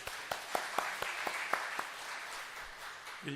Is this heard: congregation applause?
yes